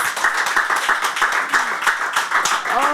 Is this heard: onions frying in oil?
no